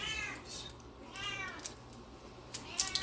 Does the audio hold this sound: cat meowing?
yes